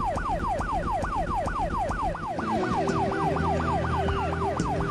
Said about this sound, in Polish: Co to za syreny?